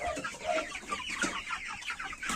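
Broiler chickens huddled under heat lamps cluck and chatter together at close range, a busy overlapping flock murmur of short, quick calls.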